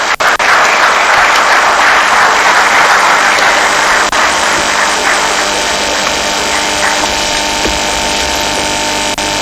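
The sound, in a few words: audience applause at award ceremony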